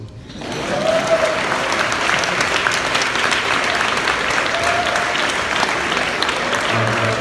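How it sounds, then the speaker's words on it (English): A round of applause from guests at a Mission Bit gala: dense crowd clapping rises quickly and then holds steady and full, with no talking over it. "You can give a round of applause."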